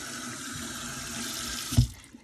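Tap water runs steadily over a hand at a sink, a continuous close hiss that ends with a brief splash near the finish.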